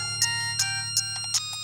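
A mobile phone ringtone rings in short bright electronic bursts, about four evenly spaced tones plus a couple of softer ones, over a low steady hum.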